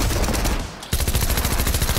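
Rapid automatic gunfire from a shooter video game, loud continuous bursts of close shots with a brief gap partway through before firing resumes.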